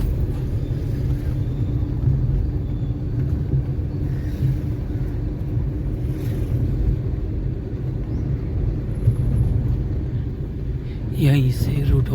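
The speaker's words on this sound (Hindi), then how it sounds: "आप दोनों तरफ ट्रैफिक देख सकते हैं।" Steady road traffic rumble passing on both sides near Kanashi village, a broad continuous low drone of engines at close range with a brief brighter swell near the end.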